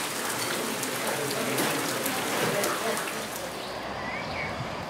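Steady rain falls on an outdoor spot where a painter had planned to work, a close, even hiss of drops that holds the whole time, with no voices over it.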